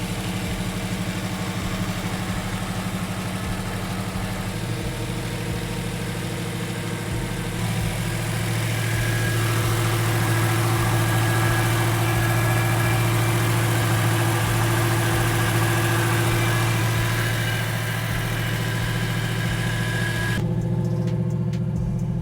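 A 1987 Chevrolet Monte Carlo SS engine idles just after a cold start, a steady, close, continuous rumble with a faint mechanical vibration throughout and no voices.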